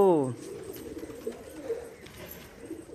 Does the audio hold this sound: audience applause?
no